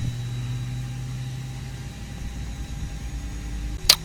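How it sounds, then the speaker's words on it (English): Airbus A320 jet engines spooling up during engine start in the X-Plane 10 flight simulator, a steady low rumbling drone with a rising tonal whine, ending in a brief sharp click. "You can hear the engines pulling up."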